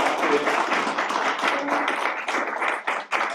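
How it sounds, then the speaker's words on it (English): An audience applauding a speaker at an event, a dense, steady clapping from a full room for a few seconds before starting to thin out at the end. "Let's give a round of applause to Dr."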